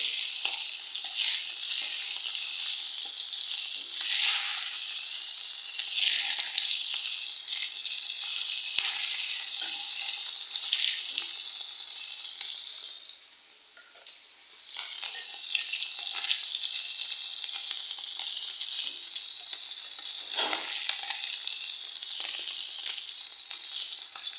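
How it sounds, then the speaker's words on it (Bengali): Fish mixed with potatoes fries in a pan, giving a loud, continuous oily sizzle with bursts of spattering and a brief dip near the middle, no voices over it. "তো মাছটা ভাজা হোক"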